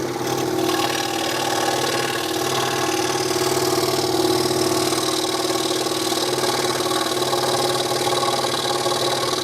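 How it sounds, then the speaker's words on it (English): A Hegner scroll saw cutting fretwork runs with a continuous, steady motor hum and fine buzzing rattle, loud and close, unchanging for the whole stretch with no voices. "now the saw's ready to cut"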